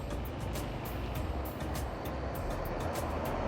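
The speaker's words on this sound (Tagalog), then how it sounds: "Padaanin muna natin tong truck." Truck passing close by on a road near a river park, a steady low engine rumble and tire roar filling the short span without speech.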